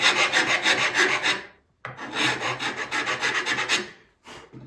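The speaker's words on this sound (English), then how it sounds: "That's why I'm going to go to the rasp now to take off just a little bit." A wood rasp files a tenon for a mortise and tenon joint in repeated close, crisp scraping strokes. A brief pause falls midway and a short gap comes near the end, with no voices.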